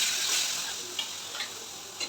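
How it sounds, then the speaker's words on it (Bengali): Fish dropped into hot oil in a wok fizz with a steady, close hissing sizzle, with a few brief crackling spits. "এখন দেখো তেলটা গরম হয়ে গেছে, এবার মাছগুলো দিয়ে দিচ্ছি"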